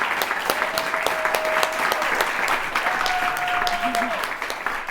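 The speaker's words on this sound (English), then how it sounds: "Let's clap for everyone." An audience at the close of a vegan debate event claps together, a steady wash of many hands applauding at constant loudness, with faint tonal feedback humming underneath.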